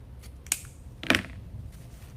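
Scissors snip stray twigs on a grapevine wreath, two quick close cuts, a light click followed by a louder crunchy snip, with soft room noise between.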